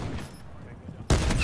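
Gunfire in a Call of Duty match, shots fired through a wall, bursting loud and close near the end after a stretch of muffled game noise and low rumble.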